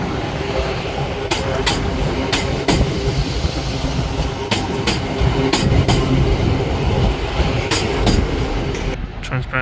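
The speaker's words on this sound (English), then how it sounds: "Transpennine Express Class 185 pulling in now." Transpennine Express Class 185 train pulling into a platform at Manchester Piccadilly, a loud continuous rumble with repeated rhythmic wheel clacks over rail joints, close by and sustained throughout.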